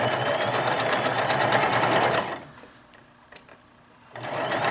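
A sewing machine stitches two layers of fabric held flat together, running in a loud, steady mechanical whir for about two seconds, then stopping to near quiet before starting up again.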